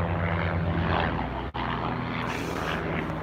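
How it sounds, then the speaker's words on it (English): A helicopter flies overhead in San Diego, its loud rotor and engine roar filling the air steadily, with one short dip partway through. "Helicopter!"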